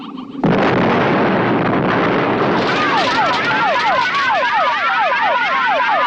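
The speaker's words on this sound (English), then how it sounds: "They could afford an actual explosion on this show." In the Doctor Who serial The Dominators, a sudden loud explosion bursts in and gives way to a sustained roar of rumbling debris, with warbling, whistling tones rising over it toward the end.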